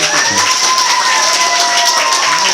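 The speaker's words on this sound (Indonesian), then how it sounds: "Monggo bisa tepuk tangan." An audience at a school alumni gathering claps together in a dense, even wash of applause that stays loud and steady throughout, with no talk.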